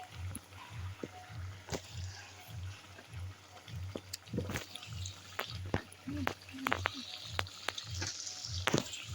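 Fish curry with pui greens simmering and frying in a pan, with a low steady sizzle broken by scattered clicks and stirring scrapes; faint voice in the background.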